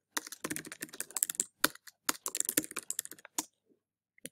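A password being typed on a computer keyboard: close, crisp clusters of key clicks in quick bursts with short pauses, then a few final isolated taps before the typing stops.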